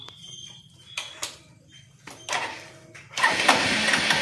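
Electric self-start of a Hero Xtreme 160R motorcycle: several starter clicks and short cranking bursts, then the engine catches and settles into a steady, loud idle, heard close up.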